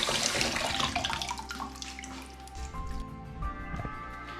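Wild berries get a quick rinse as tap water runs and splashes over them in a container, a steady close rush of water with shifting drips and trickles.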